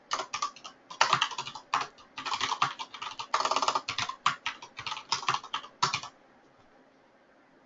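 Rapid clattering keystrokes on a computer keyboard in uneven bursts, close up, then falling quiet near the end.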